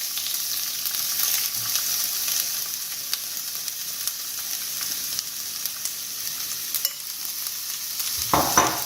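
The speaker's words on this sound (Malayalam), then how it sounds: "നമ്മൾ കൂട്ടി വെച്ചിരിക്കുന്ന ക്യാബേജ് അതിലോട്ട് ഇടുക." Cabbage stir-fries in a pan for Kerala-style cabbage thoran, a steady close sizzle with light stirring clicks and a louder scrape near the end, no voices.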